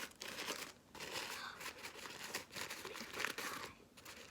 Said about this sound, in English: put 2 sheets together and crumple them down the center